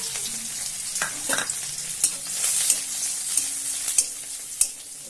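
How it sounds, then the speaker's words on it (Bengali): Crushed garlic dropped into a little hot oil in a kadai, sizzling steadily with repeated scraping and tapping of a spatula, close and clear with no talk. "অল্প একটু তেল আর তেল গরম হয়ে গেছে আমি রসুনটা থেতো করে রেখেছি রসুনটা দিয়ে দিচ্ছি"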